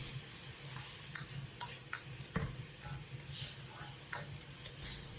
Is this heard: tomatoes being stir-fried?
yes